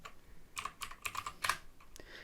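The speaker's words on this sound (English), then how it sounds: "we simply can exit out of this shell by just typing exit multiple times" Commands typed on a computer keyboard at a console: a close, quiet burst of irregular key clicks in quick clusters with short pauses, no voice.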